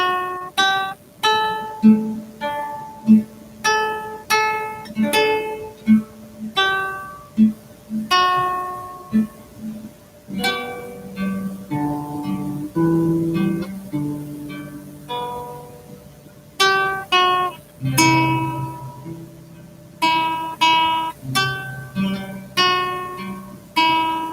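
Fingerpicked acoustic guitar playing the hymn Old Rugged Cross, plucked notes and chords in a steady, unhurried melody that resolves back to a G, close and clear, alone for about twenty-four seconds.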